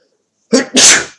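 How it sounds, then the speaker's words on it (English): A single loud sneeze, a quick sharp inhale followed by a forceful burst, close to the listener. "I have to sneeze."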